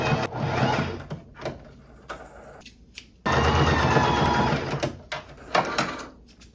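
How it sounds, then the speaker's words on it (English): Domestic sewing machine running a straight stitch on thrifted skirt fabric, a close mechanical whir in two bursts separated by a brief pause, with short stops and restarts near the end. "And for my machine settings, I have it set to a straight stitch."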